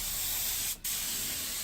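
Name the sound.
spray painting a wooden paramotor propeller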